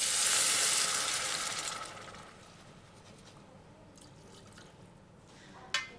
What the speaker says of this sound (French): on a fait juste revenir très légèrement les carottes, le gingembre et l'échalote